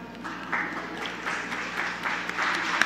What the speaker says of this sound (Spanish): Se oyen poquito los aplausos